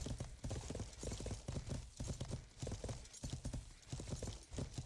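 Horse hooves in the video game Life is Feudal make a steady, fast rhythmic clip-clop, loud and close, with a brief neigh among them and no talk.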